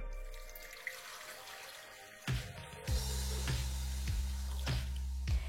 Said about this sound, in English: measure out 800 milliliters of water and pour it into your blender.